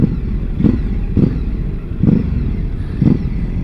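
Engine of a Ducati Hypermotard 1100 motorcycle, a deep steady rumble close by that swells in a few regular pulses, with no voices over it.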